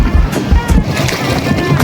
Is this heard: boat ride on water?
yes